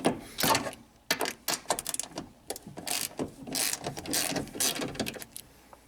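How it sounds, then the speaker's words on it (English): A 3/8 inch socket and ratchet work on a rear strut bolt of a Honda Accord, giving quick bursts of clicking pawl ratchet strokes with brief pauses between them, close and fairly loud. "you can usually just sneak in there with a regular 3/8 inch socket and ratchet"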